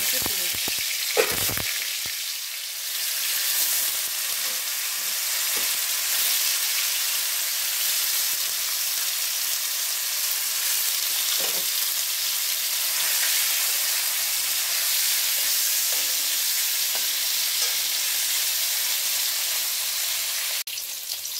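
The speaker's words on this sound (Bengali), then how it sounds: "পনিরগুলো লাল হয়ে গেছে এবং ভাজাও হয়ে গেছে" Paneer pieces frying in hot oil in a pan give a steady, loud sizzle and hiss, broken by a few clattering stirs and scrapes near the start.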